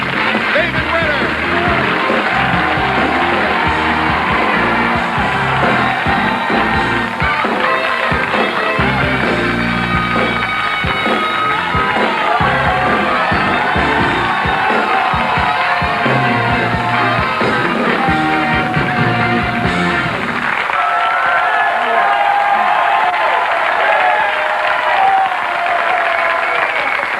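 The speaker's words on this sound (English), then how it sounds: "I wish that those applause were for me and not my sweatshirt" Loud studio audience cheering and applause on a late-night talk show, a dense sustained roar of clapping and whoops that thins out near the end into scattered claps and crowd noise.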